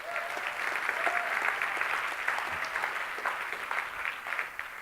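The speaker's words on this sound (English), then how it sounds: "Give him a nice round of applause." Warm audience applause rises for a guest speaker and holds at an even, dense clapping level throughout, with faint crowd murmur beneath.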